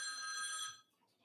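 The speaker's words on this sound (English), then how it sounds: "we have the phone ringing here" A telephone bell rings once on a live radio call-in show, a bright, shimmering electronic trill that cuts off abruptly into near silence.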